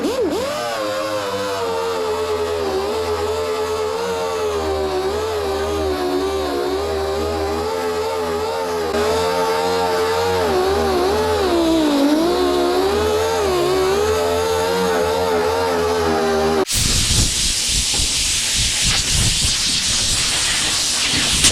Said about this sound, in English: The old Durapeak paint stripper wheel. Best paint stripping tool in the world